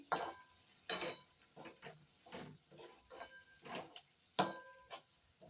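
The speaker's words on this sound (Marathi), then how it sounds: "हे बघा आता छानपैकी परतून घेते" Masala with turmeric and kokum sautés in a pan, a spoon scraping and knocking against the metal in a slow rhythm of roughly one stroke per second over a faint sizzle, close by.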